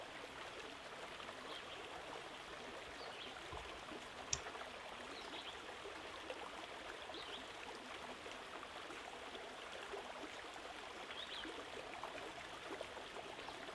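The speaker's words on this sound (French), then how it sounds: "Le bruit de l'eau est bien présent" Forest stream flowing over stones, a faint, steady broadband rush of water heard from a short distance, with one brief tap partway through and no voices.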